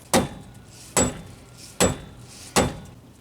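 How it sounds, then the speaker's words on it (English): A hammer or mallet strikes a wheel hub on a Grand Am front wheel hub replacement, four sharp metallic taps spaced evenly about 0.8 seconds apart, close and distinct. "we're going to just take the hammer or mallet and kind of see if we can tap it out of the hub there"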